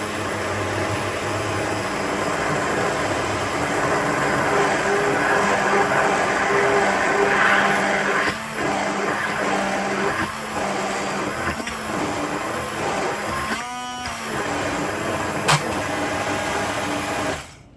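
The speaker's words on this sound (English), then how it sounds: "take the blender and just get it inside wide mouth jar, and you want to just hold it down before you start pulsating" An immersion blender whirs inside a wide-mouth jar of olive oil, a continuous buzzing motor drone with brief pulses and dips in pitch as it is worked, close and fairly loud.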